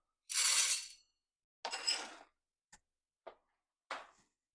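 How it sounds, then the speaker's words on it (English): Popcorn kernels poured into a pot of ghee on the stovetop, heard as one long rattling pour, then a second shorter burst and a few quick scattered clicks of stray kernels, close and moderately loud with no talk. "almost immediately following my ghee goes 1/4 cup of popcorn kernels"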